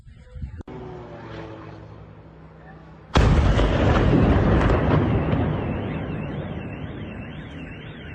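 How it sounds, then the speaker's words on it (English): A sharp bang from a drone attack on Moscow is followed by a huge, sustained explosive roar that slowly fades, after an earlier rumbling blast and a faint siren wail. "Several massive explosions thundered over the city."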